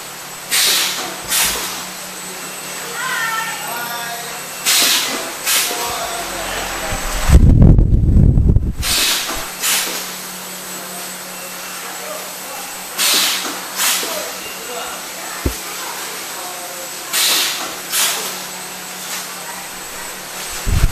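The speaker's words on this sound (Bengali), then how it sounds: "এখানে এগুলো তরকারি, মাংস তরকারি যে প্যাকেট চলতেছে মেশিনে, অটো মেশিনে প্যাকিং হয়।" An automatic packing machine at a catering business in Singapore seals meat curry packets, giving sharp hissing bursts every couple of seconds and one longer, heavier blast midway, while people talk nearby.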